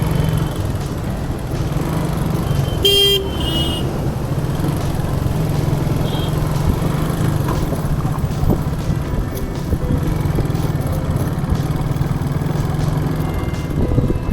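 A traffic jam on the Mumbai–Nashik highway near Vadpe produces a steady, loud drone of idling and creeping engines. A single short car horn sounds early on against the continuous rumble.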